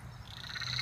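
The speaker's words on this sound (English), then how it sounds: "they're also called the emerald spotted tree frogs" Emerald spotted tree frog croaking at night, a steady rasping trill that builds in loudness over less than a second, heard alone against a low background hum.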